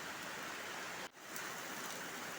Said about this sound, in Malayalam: ഇന്ന് രാവിലെ മുതൽ നല്ല മഴയാണ്.